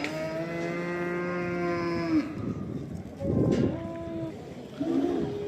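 A pregnant water buffalo at a cold winter livestock bazaar gives long, loud, close moos, one drawn-out call followed by shorter lowing bursts, with market ambience behind.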